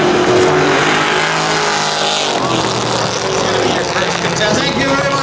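Street-legal drag race cars, including a Dodge and a Mustang, roar loudly as they accelerate hard at a spectator drag event at Beech Ridge, with engine noise filling the scene while an announcer and crowd talk over it.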